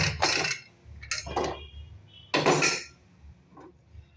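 A metal pressure-cooker lid rattles and clanks open over mutton curry, several sharp clinks and scrapes in separate bursts, fairly close and alone.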